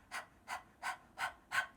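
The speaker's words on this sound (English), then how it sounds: "it would be like you're panting like a dog" Breath of Fire yoga breathing, five quick evenly spaced breaths pumped from the navel like a panting dog, close and soft with short pauses between them.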